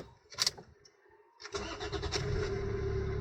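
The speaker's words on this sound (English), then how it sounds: "You start the engine, no problem." Toyota car with an MMT semi-automatic gearbox: a brief mechanical rattle, a short pause, then the engine catches and settles into a steady, close idle that runs to the end.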